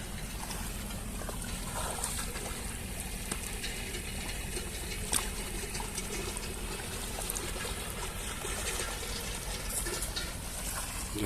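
Irrigation water released into a prepared wheat field trickles steadily across the soil, a soft continuous flowing wash with no talking.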